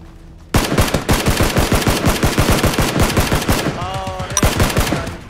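Gunfire in the battle-royale video game PUBG: a loud, rapid automatic burst of shots hammers on for about four seconds after a sudden start, then stops as a short tonal game sound follows.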